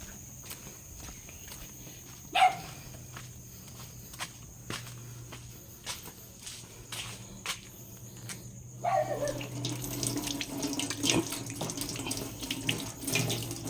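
Water runs steadily from a tap into a sink, a near, continuous splash that grows louder and fuller partway through, with footsteps and light knocks scattered around it.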